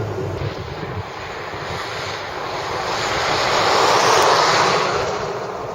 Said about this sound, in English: that's road noise, and it's transmitting directly through the wheels